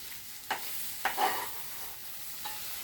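Mince sizzles steadily in a pan while a utensil scrapes and stirs it in three or four brief, distinct strokes, close and moderately loud, with no talking.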